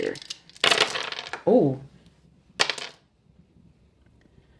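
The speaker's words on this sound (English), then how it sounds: "I love casting dice" Dice are cast and clatter across a hard surface in two quick rattling bursts, close by, with a short spoken exclamation between them.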